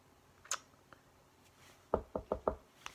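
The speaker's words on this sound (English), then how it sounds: "Again, knocking at the door." Knocking at a door late at night: a faint tap or two, then four firm, evenly spaced knocks in quick succession, fairly close and alone against quiet background hiss.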